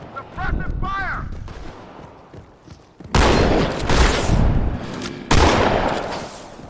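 Halo 2 gunfire is heard as dense bursts of shots. Two loud volleys come in the second half, and whooping synthetic sounds play near the start.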